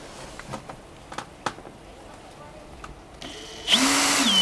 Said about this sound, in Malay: untuk tebuk ni saya akan setkan drill pada kedudukan reverse